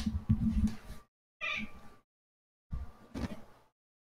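A kitten meows three times at close range, each call short and separated by brief silences, with no talk over it.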